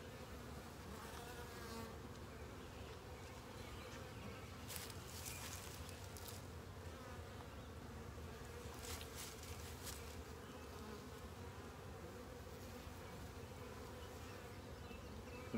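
Honeybees buzz in an opened hive chamber holding queen cells, a continuous close hum of many insects at low overall level, with a few sharper passes of individual bees.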